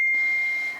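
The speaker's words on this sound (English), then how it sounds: "That was my phone that just went off." A single steady electronic tone from a mobile phone notification rings out close and fairly loud, holding one pitch for under a second before fading.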